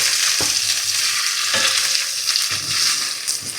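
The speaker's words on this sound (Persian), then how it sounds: "یکم هم با گوجه گیلاسیا تفتش میدم و بعد فلفلا رو هم بهش اضافه میکنم" Cherry tomatoes and chopped peppers sauté in a pan over low heat, giving a steady close sizzle with a few soft stirring scrapes and no talking.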